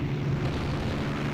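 Bomb blast from an airship naval strike in the video game Rule The Waves 3, a deep rumbling boom that sustains as a heavy, even roar for about a second, with no talk.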